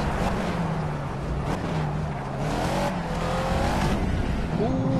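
Race car engine in the Project Cars racing game, revving loudly with rising and falling pitch as it shifts through gears, close and continuous, with someone talking faintly underneath.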